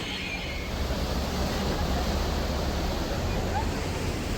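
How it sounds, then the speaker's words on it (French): Rough rapids on the Futuroscope Mission Bermudes boat ride, with loud water rushing, churning and swirling in a constant broadband roar that fills the scene from start to finish. "On a l'eau qui gronde, ça bouillit, ça tourbillonne."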